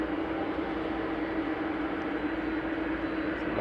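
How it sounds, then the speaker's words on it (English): A Jet2 airliner taxiing out for departure at Manchester Airport gives off a steady, fairly loud jet engine whine and roar with a sustained tone, heard alone without voices. "Coming out for departure is the Jet2 air tanker."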